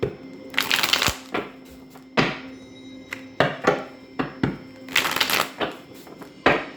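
Tarot cards shuffled by hand in repeated quick riffles and bursts of papery flutter, separated by soft taps and brief pauses, close and clear with no talking.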